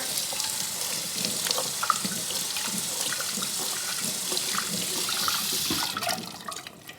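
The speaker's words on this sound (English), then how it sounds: "Rinse them with some hot water." Steady running hot tap water splashing into a sink while rinsing homemade noodles, a continuous rush of liquid that tapers off near the end.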